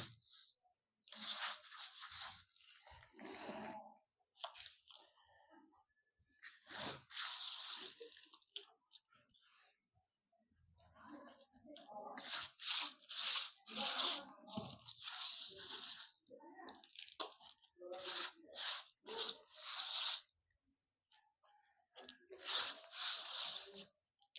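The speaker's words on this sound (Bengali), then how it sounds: "এবার পুরোটাকে মাটি দিয়ে ভরিয়ে দেব।" Hands fill a pot around a strawberry plant with potting soil and press it down, making bursts of crunching, rustling and rubbing close to the mic, separated by short pauses.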